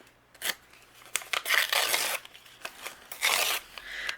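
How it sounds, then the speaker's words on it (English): Patterned craft card paper being torn by hand for a Halloween card: several short, crisp ripping bursts at an uneven pace, close and fairly quiet. "I'm going to maybe tear this way."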